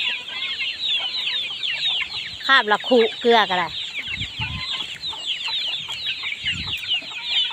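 Chickens cluck and squawk in a busy, continuous chorus close by, with one rapid burst of calls, while a person speaks over the flock.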